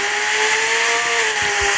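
Car engine in the Taxi Sim 2022 video game, a steady droning hum with a slowly wavering pitch as the taxi cruises at low speed, with no talking.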